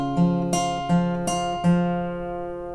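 Acoustic guitar, with the thumb striking a bass note on the 5th string while the 2nd and 3rd strings are plucked three times: bright, ringing plucks spaced evenly and fairly quiet, letting the notes sustain and fade without any voice.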